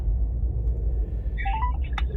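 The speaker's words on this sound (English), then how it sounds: "ringing up Graeme Kenna" Telephone dialing tones on a call, a quick series of short electronic beeps heard over a steady low rumble.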